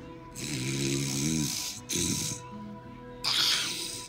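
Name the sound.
snoring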